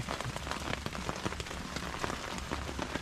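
Rain falls steadily outdoors on a cold hiking trip, a dense, continuous patter of drops striking nearby surfaces, loud and even throughout with no voices.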